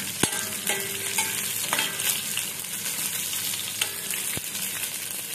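Onions and dried red chillies fry in a pan while being stirred, a close, lively sizzle punctuated by several sharp clinks and scrapes of the spoon against the pan, with no talking.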